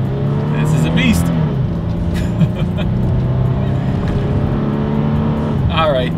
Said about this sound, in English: let's do a quick little acceleration test here in our 2021 Toyota 4Runner